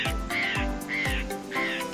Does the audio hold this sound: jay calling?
yes